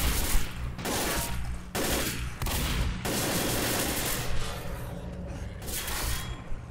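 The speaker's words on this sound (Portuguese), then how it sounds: "Em que exatamente vocês estão atirando, queridos?" Bursts of rapid gunfire from the Left 4 Dead zombie shooter, with repeated volleys of overlapping shots sounding loud and continuous across the clip, alone without speech.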